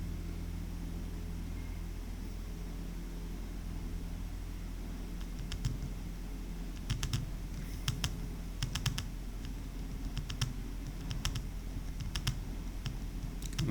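Steady typing on a computer keyboard as a letter is written, with scattered bursts of key clicks at close range over a constant low background hum.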